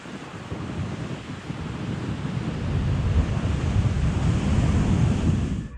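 Heavy ocean surf pounds a black volcanic sand shore lined with basalt columns, a continuous roaring wash that builds louder midway, with wind buffeting the microphone and no voices.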